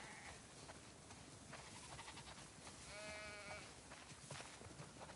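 Sheep bleating inside a barn in The Last of Us Part II, a wavering bleat rising clearly over a soft, constant bed of flock noise and shuffling, quiet overall with a few fainter calls around it.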